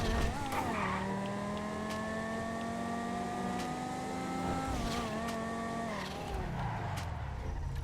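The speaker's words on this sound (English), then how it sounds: "let's go ahead and give some gas and floor it" A Bravado Banshee GTS sports car engine in GTA Online revs and pulls hard at full throttle, its pitch climbing steadily with a brief shift dip, loud and continuous with no talking.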